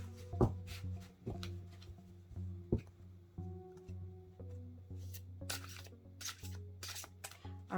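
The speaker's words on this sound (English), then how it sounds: "Do a couple more shuffles." Tarot cards being shuffled by hand, soft close riffles and taps with scattered small clicks and rustles, faint in a quiet room.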